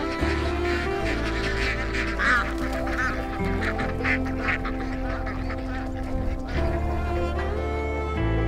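A flock of ducks on a farm quacks continuously, overlapping calls close by, with steady low background noise and no talking.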